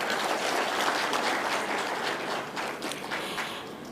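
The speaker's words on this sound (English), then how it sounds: "Kindly give them a hand clap." Conference attendees applaud the event staff, a thick burst of hand clapping from a large audience that stays strong and then slowly thins toward the end.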